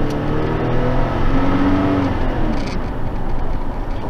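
A Saab 9-7X SUV engine with stock exhaust revs hard and rises in pitch under acceleration, a loud, throaty exhaust drone close by with no voices.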